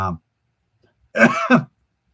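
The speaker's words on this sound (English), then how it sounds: "if you hear me coughing, I apologize" A short throat-clearing burst at the start, a pause of near silence, then a louder double cough-like throat clearing, close to the microphone.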